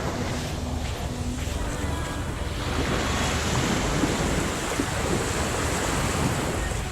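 Ocean waves wash onto a beach in Cozumel just a few feet away, a steady loud roar of surf mixed with strong wind buffeting the microphone throughout.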